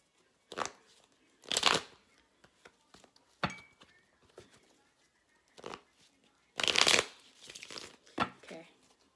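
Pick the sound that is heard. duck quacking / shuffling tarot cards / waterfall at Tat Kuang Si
shuffling tarot cards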